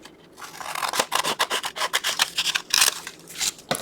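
Scissors cutting through pink paper while making a junk journal card, a close, rapid run of crisp rasping snips in a steady rhythm, with no voices.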